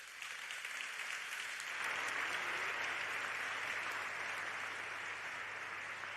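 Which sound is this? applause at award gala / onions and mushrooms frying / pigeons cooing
applause at award gala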